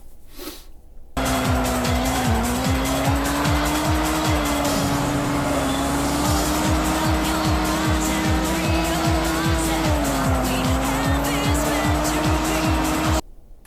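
Race cars in the Sega Saturn game Sega Touring Car Championship: a loud continuous engine whine with pitch shifts, rapid rhythmic pulsing and tire squeal throughout, cutting off sharply at the end.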